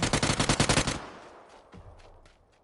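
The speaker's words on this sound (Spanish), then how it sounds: "Me han disparado a mí." Rapid machine-gun bursts in the shooter game PUBG, loud and close for the first second, then a few fainter scattered shots trailing off into quiet.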